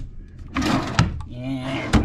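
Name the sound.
drawer being opened in a cruise ship cabin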